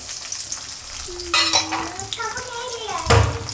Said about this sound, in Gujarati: તો તેલ ગરમ થઈ જાય એટલે એમાં આપણે નાખીશું લસણ અને મરચાં